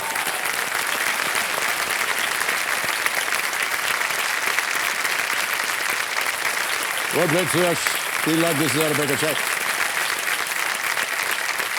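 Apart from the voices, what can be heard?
studio audience applause for contestant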